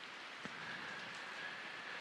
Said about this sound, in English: And the rain which you hear now is the constant watering of it